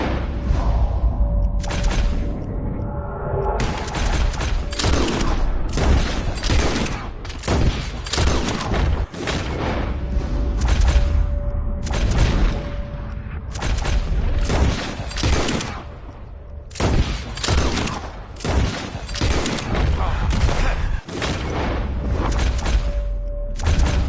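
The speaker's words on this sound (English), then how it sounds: "As soon as you see them, start shooting." Rapid volleys of gunfire in a Red Dead Redemption 2 bird-shooting contest, with repeated loud broadband shots and bursts packed closely across the span and a steady tone running beneath.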